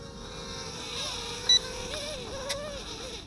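An Eachine E70 micro quadcopter drone flying and landing: a thin, whining motor hum that wavers up and down in pitch, with a faint tap as it touches down.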